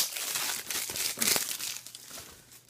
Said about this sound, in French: je vais vous le déballer, je vais vous montrer l'intérieur